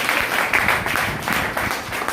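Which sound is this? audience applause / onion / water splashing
audience applause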